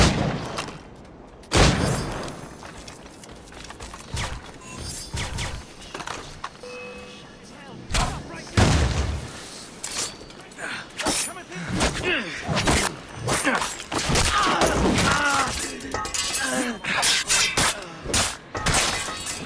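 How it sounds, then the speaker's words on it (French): A grenade explosion in Assassin's Creed Rogue Remastered bursts out amid a chaotic stretch of game combat, with repeated sharp cracks, thuds and shattering impacts over music and effects while voices talk throughout. "That was a grenade!"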